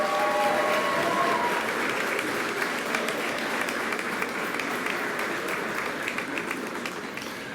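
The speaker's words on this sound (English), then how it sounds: "the graduates could give a nice round of applause to all of your supporters in attendance today" Graduates at a spring commencement ceremony clap for their supporters in attendance, a dense, sustained round of applause filling a large hall that slowly thins toward the end.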